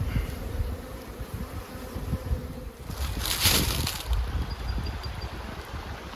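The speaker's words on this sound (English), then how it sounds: "these bees are definitely a lot calmer than the last colony we were just looking at" A honeybee swarm buzzes in a steady, dense drone outdoors, continuous and moderately loud, with some wind rumble on the microphone and a brief brighter swell partway through.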